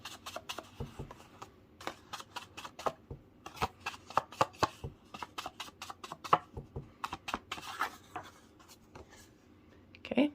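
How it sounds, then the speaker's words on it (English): A blending brush dabs ink along the edges of a paper Christmas card, making quick, quiet, scratchy strokes close by in an irregular rhythm. "take that same ink and just distress the edges with your blending brush"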